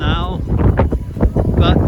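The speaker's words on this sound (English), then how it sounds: "It's getting windy." Gusty wind buffets the microphone on a valley walk, a loud low rumble that swells and fades repeatedly, with a brief high whistle at the start and end.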